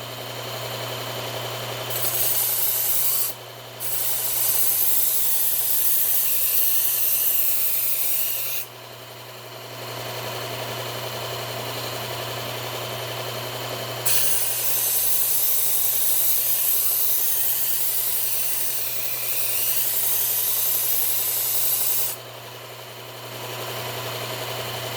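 Knife sharpening on a belt grinder fitted with a Cubitron 120 belt, a constant motor hum under repeated loud grinding passes of several seconds each, separated by short quieter gaps.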